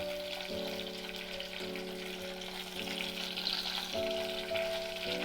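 Brinjal pieces and curry leaves fry in hot oil with a soft, constant sizzle and a steady faint hum running underneath, and no one speaks.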